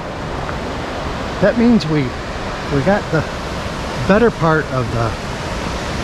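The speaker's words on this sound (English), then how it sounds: "we finally made it back to the waterfalls" A waterfall at Cloudland Canyon, Georgia, gives a steady, broad rushing roar through the whole stretch, with someone talking over it.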